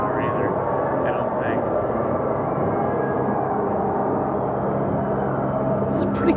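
Military helicopters and planes flying over during a Desert Storm welcome-home event, a loud continuous rumbling drone that holds steady throughout.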